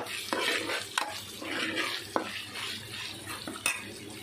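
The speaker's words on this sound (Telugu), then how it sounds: "ఇందులో రెండు స్పూన్లు అల్లం వెల్లుల్లి పేస్ట్ వేసుకున్నాం వెల్లుల్లి పేస్ట్ వేసి ఇదిగోండి బాగా ఫ్రై చేసుకోవాలి" Onions with ginger garlic paste fry in a pan, a soft continuous sizzle broken by several sharp spoon clinks and scrapes against the metal as they are stirred; no speech.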